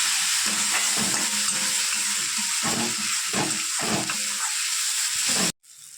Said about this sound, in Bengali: এবার এটাকে আমি কষিয়ে নেবো ভালো করে